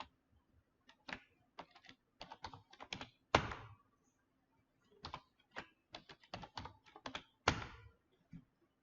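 A passphrase is typed on a computer keyboard while setting up an SSH key on Ubuntu: quiet, irregular clusters of key clicks with short pauses between them, heard alone and close up.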